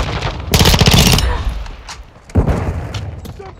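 Gunfire from Call of Duty Modern Warfare 2 multiplayer Domination on Shoot House: a loud sustained burst of rapid automatic fire, then scattered shots and another sharp report, with game callouts faintly mixed in.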